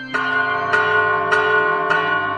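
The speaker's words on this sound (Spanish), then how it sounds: "Miren cómo sonríe con el sonido de las campanas" Church bells ring after a baptism, with four evenly spaced resonant strikes whose long humming tones overlap and sustain without pause.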